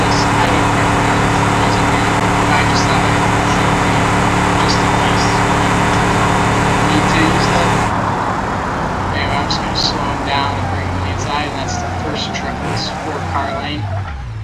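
A truck in BeamNG Drive roars along at high speed, its engine a loud, steady drone that cuts off partway before rougher driving noise and faint clatter continue.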